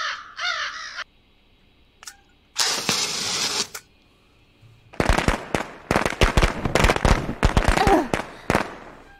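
Firecrackers thrown in the cyberpunk ghost story game Sense, a loud rapid string of sharp pops and cracks in the second half, preceded by crow caws and a hissing burst.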